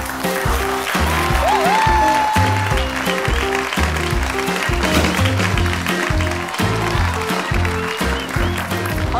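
A studio audience on a Turkish cooking show applauds arriving guests, steady clapping blended under a loud rhythmic music bed with a thumping beat.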